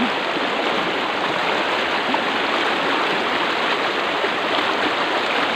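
Loud, steady rushing of a fast river current in the countryside of San Francisco, Southern Leyte, a continuous broadband roar of churning water with no pauses.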